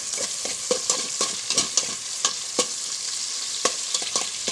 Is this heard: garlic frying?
yes